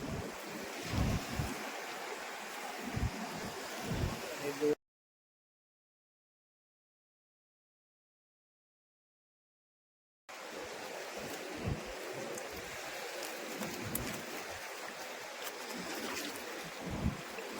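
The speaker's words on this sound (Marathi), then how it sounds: "या साईडनी भरतीचं पाणी आतमध्ये येतोय" Seawater surging in at night on a rising high tide, a steady broadband wash of surf and flowing water with some wind, cut by a silent break of several seconds before the rushing resumes.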